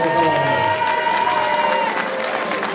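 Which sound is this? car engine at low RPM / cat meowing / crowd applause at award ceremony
crowd applause at award ceremony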